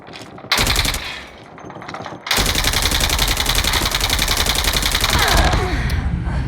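Rapid automatic gunfire rings out in a Call of Duty Mobile match, with a short opening burst, a brief lull, then long sustained loud bursts of rattling shots that fill most of the stretch.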